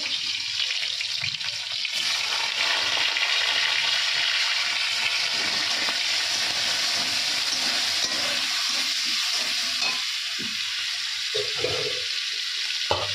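Onion, five-spice and green chillies frying in hot oil in a home kitchen, a loud, steady hissing sizzle throughout, with faint stirring knocks toward the end.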